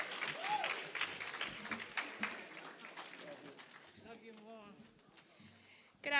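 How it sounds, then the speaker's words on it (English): An audience at a government economic empowerment seminar claps for a speaker, a faint, scattered round of applause that thins out over several seconds, with some talking mixed in. "give Tamika Hanna a round of applause"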